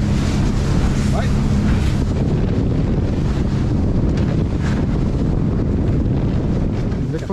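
A boat speeding at around 24 knots with loud, constant wind roar buffeting the microphone and waves rushing beneath, a dense, unbroken wash of noise.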